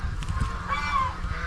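A turkey on a farm calls once with a nasal, wavering honk-like gobble. It is fairly close, with a low rumble of background noise and faint farmyard sounds around it.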